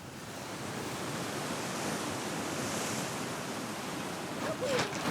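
Strong wind and surf on the Bazaruto Archipelago coast, a broad, steady roar of waves and gusts that holds throughout, with a faint brief clatter near the end.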